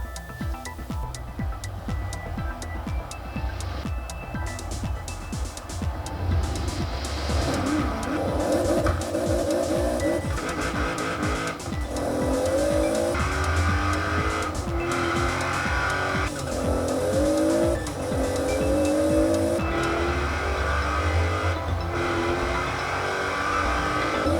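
Mazda RX-7 with a 7-liter engine racing a Toyota Supra: loud, continuous engine roar with rising revs and repeated tire squeals and skids close by.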